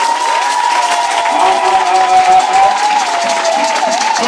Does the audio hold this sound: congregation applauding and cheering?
yes